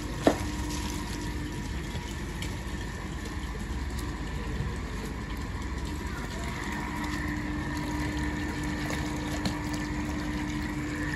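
An electric water pump motor fills a household water tank, producing a steady, continuous drone with a faint watery rush that holds even and unbroken throughout.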